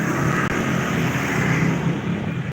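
Steady engine drone from a vehicle on a street in Indonesia, heard from inside or close by, loud and continuous with no talk over it.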